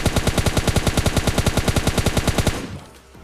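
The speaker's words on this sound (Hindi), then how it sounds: "मैं फुल फ्री फायर देता हूँ इस बंदे को फिनिश करने के लिए" Automatic gunfire in PUBG Mobile Lite: a rapid, evenly spaced burst of about twenty loud, close shots that cuts off abruptly, leaving a faint tail.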